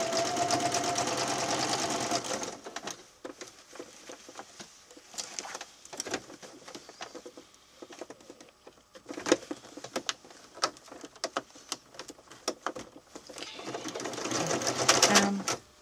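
A sewing machine stitches fabric in loud, fast whirring bursts at the start and again at the end, with quieter clicks, rustles and handling of the cloth in between, close up and with no talking.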